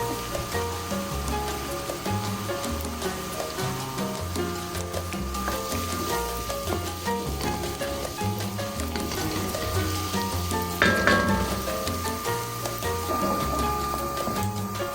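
Minced garlic sizzles steadily in a frying pan for a Filipino kare-kare, a loud continuous crackling hiss with occasional stirring scrapes and no voices.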